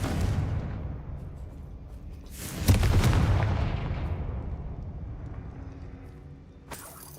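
A Bombarda explosion spell goes off in Hogwarts Legacy gameplay as a deep, rumbling boom that rises sharply and then decays slowly, followed by a second, shorter burst near the end; no talking.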